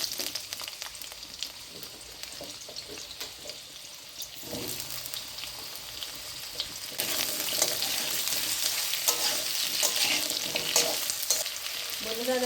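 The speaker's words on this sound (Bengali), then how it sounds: "এখন আমি এই আলুগুলো ভেজে নেব।" Potatoes frying in a pan give a close, crackling sizzle with scattered scrapes and stirring knocks, and the hiss swells louder and busier about halfway through.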